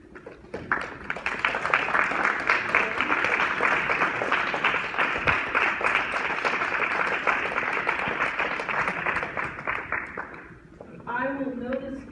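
Commencement audience applauding graduates' families, friends and teachers: dense, sustained clapping from a large crowd, steady and loud for about ten seconds before fading into brief talk at the end.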